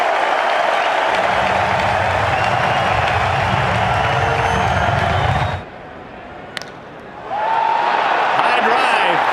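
Loud stadium crowd roars and applauds after a home run at a Detroit Tigers baseball game, a sustained wall of cheering that cuts out abruptly midway, then swells back up near the end.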